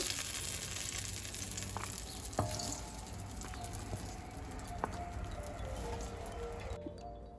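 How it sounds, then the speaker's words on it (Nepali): Green chilies, slit open, sizzle in hot oil in a wok, a steady soft frying hiss running throughout with a few faint pops and clicks, no voices. "अब यो खोर्सानी पनि भुट्यो।"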